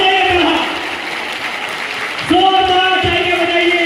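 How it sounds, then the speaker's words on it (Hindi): An audience at a school naat competition in Aurangabad breaks into loud, sustained clapping for a winner, dense and continuous, with an amplified voice and ringing tones over it. "जोरदार तालियां बजाइए"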